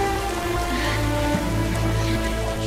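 Rain falls in a TV drama scene, a steady patter on surfaces under a thick mix of background score and ambience, continuous and fairly loud.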